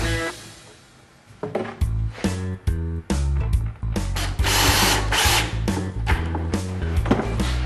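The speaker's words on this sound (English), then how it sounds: "They're even pre-drilled, so all you have to do is screw them together." A power drill drives screws into pre-drilled Proform cabinet panels during assembly, sounding as a run of loud, close whirring bursts that start after a quiet second and repeat almost continuously.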